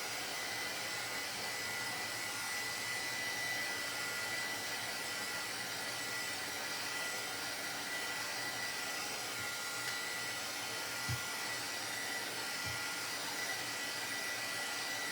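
A heat tool blows a steady, even whooshing roar to dry ink on an embossed stencil, continuous and fairly close, with a couple of faint soft knocks near the end.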